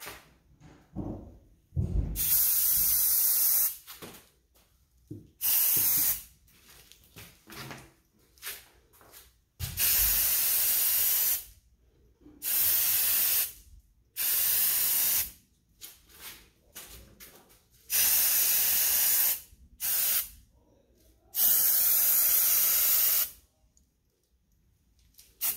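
An aerosol can of primer hisses in repeated bursts of a second or two, separated by short pauses and occasional clicks, close and fairly loud, spraying an anchor.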